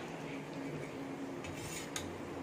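A spoon clinks and scrapes inside a pot of red lentil dal cooked with ridge gourd, a few quiet metallic taps and stirring sounds over faint room noise.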